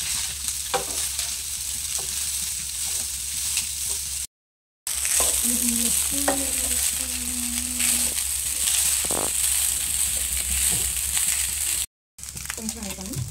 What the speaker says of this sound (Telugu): బాయిల్డ్ రైస్ ఇప్పుడు యాడ్ చేస్తాను.